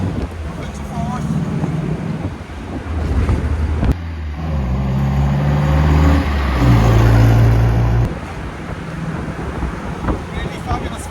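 A 1961 MGA 1600 sports car accelerating in fourth gear on an open drive. The engine note is loud and close and climbs steadily, with wind noise throughout and gear changes marking clear breaks in the sound.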